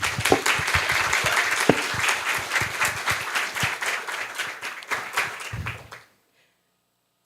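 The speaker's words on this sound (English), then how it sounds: "give a brief applause for our awardees" A conference keynote audience applauds awardees with sustained, dense clapping for about six seconds, which then stops abruptly into silence.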